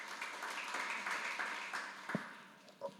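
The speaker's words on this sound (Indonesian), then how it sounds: "Kasih tepuk tangan bagi Tuhan." A church congregation claps during a worship service, a moderate wash of hand clapping that fades over a few seconds, followed by a few scattered claps and a brief thump near the end.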